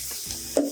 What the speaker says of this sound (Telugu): ఇలా చీలికల్లా కోసుకుని బ్రౌన్ కలర్ వచ్చే వరకు వేయించుకోండి.